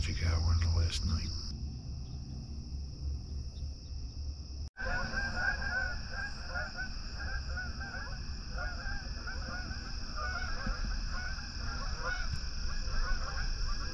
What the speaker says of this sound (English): That's the geese wishing me a end of North Carolina hunt.